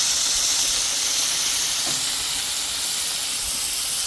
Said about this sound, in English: So I'm just going to cook these in a little bit of that garlic.